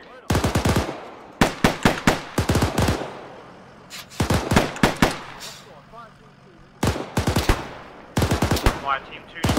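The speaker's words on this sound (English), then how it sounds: "we are under heavy fire" Heavy automatic gunfire from a military video game battle comes in rapid, loud bursts of sharp shots that repeat throughout. Faint radio-style voices sit in the background between volleys.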